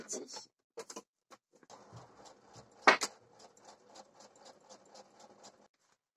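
A domestic sewing machine runs a topstitch on trouser back pockets, a fast light ticking stitch that starts and stops in short bursts before running steadily, close and fairly quiet.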